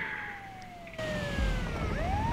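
Ambulance siren in the video game GTA 5, a wailing tone sweeping steadily downward and then rising again over a low vehicle rumble, fairly close and loud with no talk.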